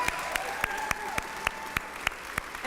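Crowd at a national leadership awards reception giving young people another round of applause, with steady clapping marked by regular, prominent individual claps.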